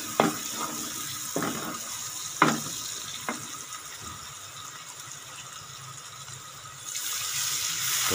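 Water being poured into a pan of cooking gooseberry broth masala with salt, turmeric and red chilli, a steady soft hiss and sizzle with a few sharp splashes and clinks early on, ending in a louder rush.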